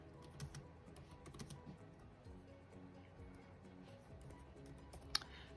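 Keys tapped on a computer keyboard while entering text for a fused glass snowman platter project, soft irregular clicks under a quiet room hum, with one sharper click near the end.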